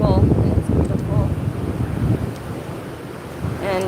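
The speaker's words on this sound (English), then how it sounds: "And the beach is still overcast. It's still kind of small waves" Small ocean waves wash onto an overcast beach in a steady low rumble with wind noise, heard close with faint chirps and some indistinct sounds over the surf.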